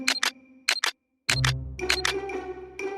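Camera shutter clicks while snapping a selfie, arriving in quick pairs of sharp clicks several times over a few seconds, the later ones layered over a loud low rumble.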